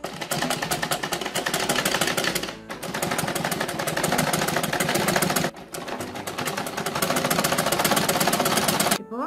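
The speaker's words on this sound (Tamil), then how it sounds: "நம்ம வந்து பாவாடை வந்து சேர்த்து தச்சிட்டு இருக்கோம்" Sewing machine stitching together the panels of a school uniform skirt, running in fast steady bursts with brief pauses between seams, loud and close with no talking.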